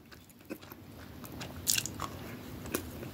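Biting and chewing a cold Cinnabon classic cinnamon roll, with a few soft, close crunchy bites and wet chewing sounds spread over a few seconds against a quiet room.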